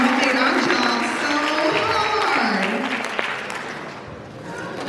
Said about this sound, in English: I would like to say a big round of applause for all of our classes that participated this year